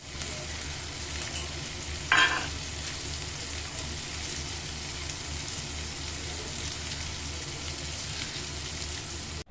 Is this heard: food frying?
yes